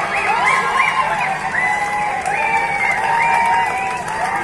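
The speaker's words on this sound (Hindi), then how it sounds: "जहां कितना शोरगुल इस समय हो रहा है रात के 12 बजे" A noisy crowd shouts and cheers at a cricket turf club late at night, a dense continuous roar of voices with rising whoops, loud and steady, heard from nearby.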